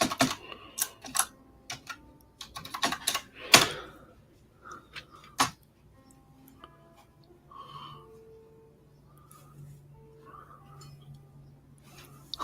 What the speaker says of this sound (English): Let's try typing in Woo Riders.